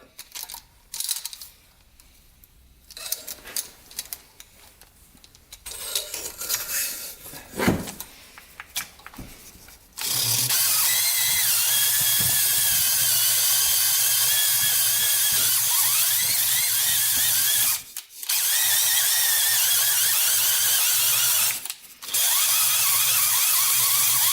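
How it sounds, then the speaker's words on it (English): After some clattering and handling, a cordless drill honing the oiled cylinder of a turbocharged Honda 400EX engine runs in a long, loud, steady whine, briefly stopping twice before starting again. "we're gonna see if we can hone out the cylinder here"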